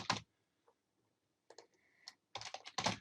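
Keys clack on a computer keyboard in quick bursts of typing separated by short pauses. The clicks are close and fairly faint against a quiet room, with no voices.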